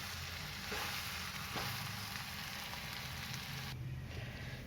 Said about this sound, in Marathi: आणि हे असे मी चांगले परतून घेते.